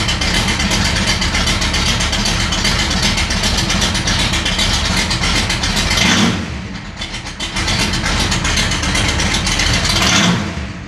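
A 1964 Ford Galaxie 500 with a 427 V8 idles steadily with a dense, even rumble, loud and close, dipping briefly twice before settling back.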